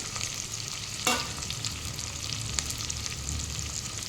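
Drumsticks drop into a pan of fenugreek leaves and onions frying for sambar, with a brief clatter, then a steady close sizzle and crackle.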